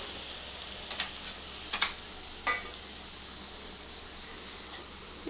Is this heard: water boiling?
yes